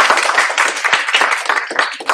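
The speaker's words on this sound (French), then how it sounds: "Je vous propose aux élèves d'ailleurs d'applaudir leurs enseignants." Students clapping for their history-geography teachers at a school remembrance award ceremony, a dense round of hand claps, fairly close and steady throughout with no other sound.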